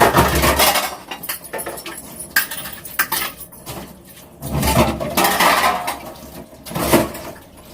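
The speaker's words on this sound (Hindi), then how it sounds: "अब धुलना तो पड़ेगा ही बर्तन, तो धुल लेती हूँ फटाफट से बर्तनों को" Dishes being washed by hand in cold water, with clattering pots, pans and cutlery, clinks of metal and glass, and splashes of running water in irregular bursts, heard close and with no talking.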